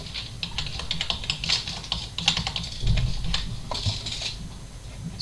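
Fingers type an IP range into network monitoring software setup on a computer keyboard, a steady patter of close key clicks in bursts with no talk.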